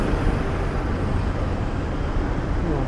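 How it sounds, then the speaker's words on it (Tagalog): Road traffic noise heard from inside a moving vehicle near Burnham Park in Baguio, a steady broadband rumble and hiss with no distinct events and no talking. "Yung traffic rin."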